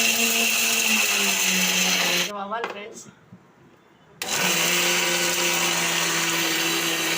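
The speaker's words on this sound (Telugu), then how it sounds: "ఇవన్నీ పొడి మిక్సీ వేస్తున్నాను" A kitchen mixer grinder whirs loudly as it grinds roasted lentils, garlic, chilli and salt into a fine powder, running steadily, stopping for about two seconds while a voice speaks briefly, then starting again.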